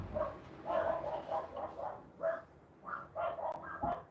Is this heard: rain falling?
no